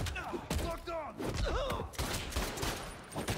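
Gunfire from enemies in the Spider-Man 2 video game, bursts of shots and thuds mixed with game effects, while someone talks over the action throughout.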